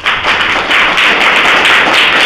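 Schoolchildren clap together in a classroom at a government school in Salgi, Kudu, Jharkhand. Dense, loud applause fills the whole moment as a steady wash of many hands close by, with no talk over it.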